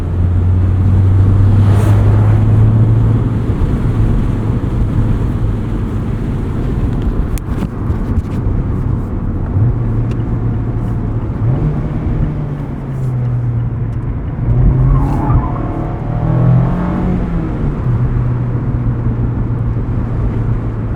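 A 2024 Mazda MX-5 Miata Club's four-cylinder engine drones steadily from inside the cabin while driving, its pitch rising and falling with throttle changes and shifts, with some road and wind noise beneath.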